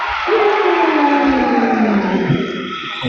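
A crowd at a women's wheelchair basketball game, Victoria Wonders against Sydney Blues, erupts in loud sustained cheering and whooping after a made jumper, a rising swell that holds strong before easing slightly.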